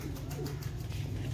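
Pigeons coo with a soft, steady murmur close by, in a loft of young Sialkoti pigeons, the coos blending into a continuous low hum without pauses.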